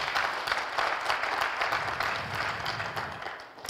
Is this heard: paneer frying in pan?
no